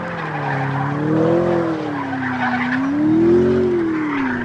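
Tires squealing in a long wavering screech as a McLaren 650S slides on a race track, engine droning loudly underneath, close and sustained.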